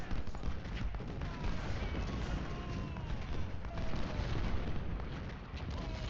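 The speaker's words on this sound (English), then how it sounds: "so hopefully we can get another volley off." Musket volleys from Civil War infantry lines in a strategy game, rolling crackles of massed gunfire with booming blasts layered over a constant rumbling battle din.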